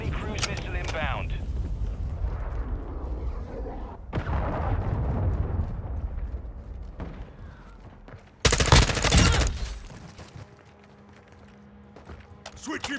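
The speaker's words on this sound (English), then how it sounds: "Friendly cruise missile inbound." Call of Duty: Modern Warfare II match with gunfire and a loud cruise missile strike, including a sharp explosive blast midway, set against steady battle noise and voices talking throughout.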